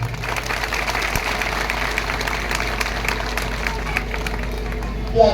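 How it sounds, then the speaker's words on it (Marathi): A seated audience claps steadily to welcome a swami at a ceremony for an equestrian statue of Mahatma Basaveshwar in Gunjoti, Umarga taluka, producing dense, sustained applause throughout. "महास्वामीजींचा आपण टाळ्या वाजून आपण स्वागत करूया"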